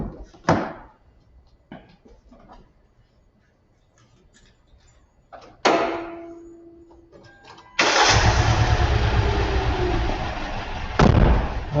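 A car engine cranks and fires up after a few clicks and thumps, then settles into a loud, uneven idle with rough, sputtering misfires.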